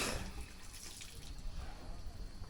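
Water gushes steadily from a hose held in an elephant's mouth at an elephant farm in Chiang Mai, Thailand, a close, continuous splashing rush with no talk over it.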